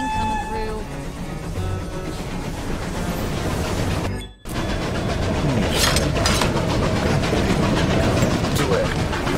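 Train running on rails in the video game Desperados 3, a loud continuous rumble and clatter that drops briefly to near silence before resuming, with character voices speaking over it.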